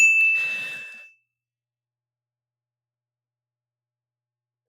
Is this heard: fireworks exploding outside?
no